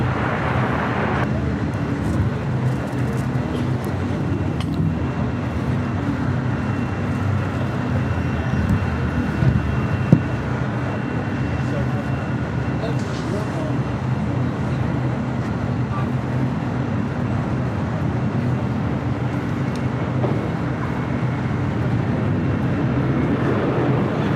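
A Delta airliner at LAX roars steadily at a distance, a continuous broad jet rumble that holds constant throughout, with no voices over it.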